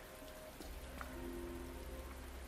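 Steady rain falling in the video game Resident Evil 2, a soft continuous hiss of drops on surfaces with a faint tonal hum underneath, unbroken for a few seconds and no voices.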